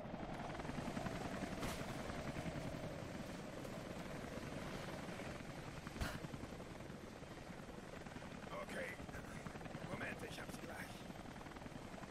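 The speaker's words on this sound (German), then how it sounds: "Kommando Posten 2, letzter Heli gestartet." A helicopter taking off in the video game Rise of the Tomb Raider makes a steady, thumping rotor drone that fills the clip, loud and continuous, with faint voices talking underneath.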